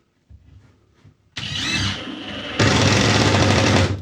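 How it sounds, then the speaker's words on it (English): A screw is driven through the end of a wooden board for a miter saw station, giving two loud, sustained whirring bursts, the second stronger, after a few quiet knocks. "I'm just going to drive a screw in through the end"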